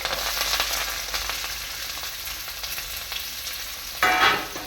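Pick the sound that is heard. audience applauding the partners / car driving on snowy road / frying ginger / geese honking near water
frying ginger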